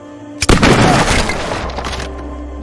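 A single loud gunshot-like blast from a war film about Soviet and German snipers, opening with a sharp crack and rolling into a long, noisy rumbling tail.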